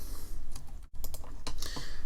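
A computer keyboard spacebar is pressed in a couple of close, crisp clicks amid light typing taps, with no speech.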